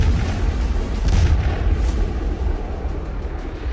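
Army artillery fire and explosions at the Mahajan Field Firing Range in Bikaner during the Kharga Shakti 2026 exercise, a continuous loud rumbling roar of distant booms blending together with no voices.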